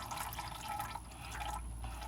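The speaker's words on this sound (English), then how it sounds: "It's starting to pour out oil" Motor oil pouring and trickling from a car's oil filter as it is loosened during an oil change, a close, steady liquid splash and drip lasting the whole moment with no talk.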